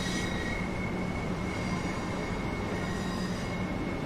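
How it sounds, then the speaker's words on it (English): A 4-car train from Seaford passes close by, a steady loud roar of wheels on rails with a sustained high metallic squeal running throughout. "That's not come from Eastbourne, that's come from Seaford. It's a 4-car train."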